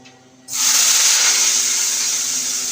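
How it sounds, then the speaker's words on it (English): Cabbage, pumpkin and carrot are added to a pot and begin to steam with a sudden loud hiss that continues steadily, close by, with no talking. "I'm gonna put in my veg. They go and steam up."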